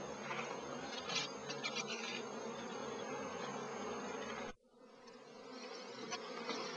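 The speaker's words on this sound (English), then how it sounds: "they're flying around thinking where the devil has the hive gone" A dense swarm of honeybees buzzes steadily and close, a constant droning hum that briefly drops out, then swells back.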